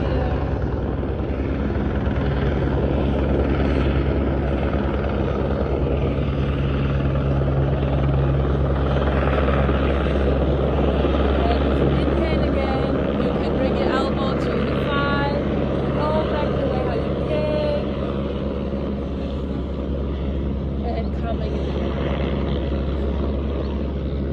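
A steady, loud helicopter drone with a deep rotor throb fills the whole stretch, staying constant as it passes close overhead.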